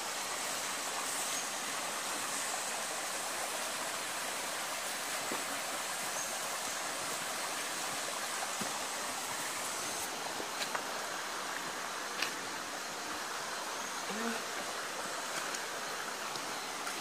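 The Goldsborough River in Tobago flows with a steady, even rush of water, a broad continuous hiss heard close and unchanging throughout.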